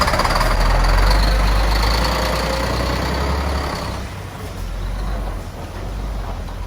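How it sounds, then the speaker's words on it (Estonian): A car or truck pulls in and stops fairly quickly at a Baltic border crossing, a loud low engine rumble easing off around the midpoint, with faint talk mixed in. "tuli jälle üks auto sisse ja tegi selle stoppi ära võrdlemisi kiiresti"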